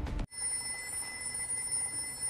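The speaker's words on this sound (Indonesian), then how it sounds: "telepon di toko itu akan berdering" A shop telephone rings with a steady electronic bell tone that starts after a brief burst of sound and then continues unbroken, close and clear with no voices.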